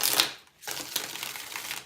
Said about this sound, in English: You're getting a good shuffle in.